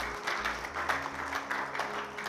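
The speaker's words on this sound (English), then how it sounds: "Give the Lord a big clap offering this morning." A church congregation clapping at a sunrise service, a dense, sustained wash of applause from many hands, fairly close and steady throughout.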